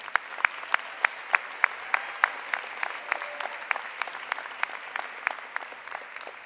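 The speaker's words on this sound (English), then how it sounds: "I want to give your parents another round of applause," At a high school graduation ceremony, the crowd applauds parents and caregivers with sharp, fairly distant claps that start in a fast, regular rhythm and then thin into a looser, quieter patter.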